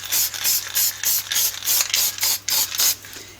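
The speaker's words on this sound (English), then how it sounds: "and I just spray it." A rapid string of short, sharp hissing bursts of aerosol fixative spray, close up, about a dozen in quick succession with brief gaps between them.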